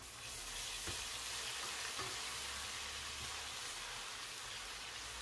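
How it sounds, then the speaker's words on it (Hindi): One tablespoon each of garlic paste and ginger paste frying in oil in a pan over medium flame, a steady bright sizzling hiss with occasional soft crackles and stirring, no voices. "लहसुन अदरक को हम फ्राई करेंगे लाइट गोल्डन कलर आने तक।"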